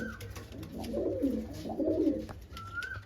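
Madras pigeons offered for sale coo in soft, overlapping low bursts, steady and close, with a faint background hum and occasional higher chirps.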